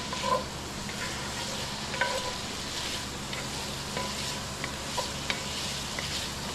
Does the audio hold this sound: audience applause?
no